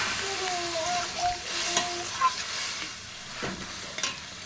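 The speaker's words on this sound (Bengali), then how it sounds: "মশলাটা বন্ধুরা তুমি দেখতে পাচ্ছ প্রায় ভাজা হয়ে গেছে, প্রায় কেন ভালোভাবেই ভাজা হয়ে গেছে, সেই জন্য জল দিয়ে দিচ্ছি" Water poured into a fried spice paste sets off a soft, steady sizzle in the pan, along with faint scraping and stirring and a few sharp clicks near the end, close but quiet.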